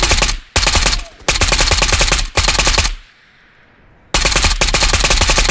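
Automatic gunfire in the VR shooter Ghosts of Tabor: three loud, close bursts of rapid rattling shots, each lasting about a second, then a short quiet pause before a final burst, with no voices.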